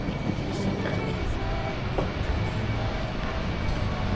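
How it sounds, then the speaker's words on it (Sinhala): A train moves through a Japanese underground station, a steady loud rumble with faint rail clatter and squeal throughout, no talk heard. "දැන් යනවා නැත්නම් ට්‍රේන් එක යනවා."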